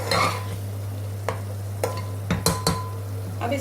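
Masala fries in oil in a pan, a low steady sizzle with a few sharp spoon scrapes and taps while being stirred, no voices.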